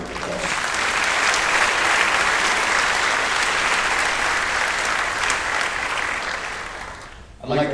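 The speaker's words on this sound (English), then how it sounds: "So please give every one of them a round of applause." Sustained, loud applause from a concert audience at a spring concert awards and recognitions segment, a steady dense wash of many hands clapping that holds for about seven seconds before cutting off abruptly.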